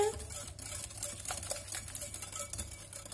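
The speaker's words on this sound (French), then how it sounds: "donc je mélange, je mélange, je mélange, je mélange" Chocolate-hazelnut mixture for a pear tart being stirred steadily in a bowl, a continuous soft scraping and swishing close by with light clinks, no talking.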